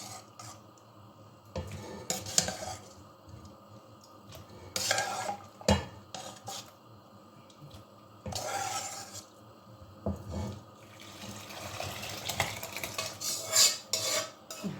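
A utensil scrapes and knocks against a pot as food is stirred in irregular bursts, with a soft sizzle in the background.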